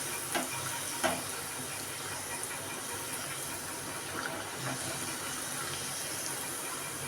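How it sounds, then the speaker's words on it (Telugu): Ragi (finger millet) puri deep-frying in oil with oil spooned over the top; a soft, even sizzle carries throughout, broken by a few faint clicks and bubbling pops, with no one talking. "ఒకవైపు కాలిన తర్వాత రెండో వైపుకు తిప్పుకొని డీప్ ఫ్రై చేసుకోవాలి"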